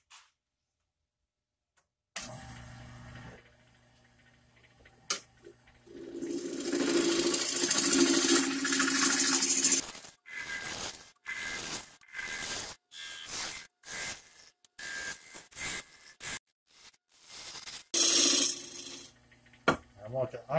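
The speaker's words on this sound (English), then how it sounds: "I want to hollow out the interior up to that mark so that my mug will fit in there" A wood lathe hollows the interior of a turned mug holder held in a scroll chuck with a step collet, giving a loud scraping, rasping cut of about eight seconds, then a run of short rhythmic cutting bursts and a final brief scrape.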